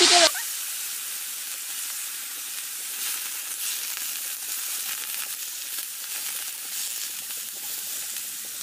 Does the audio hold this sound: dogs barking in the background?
no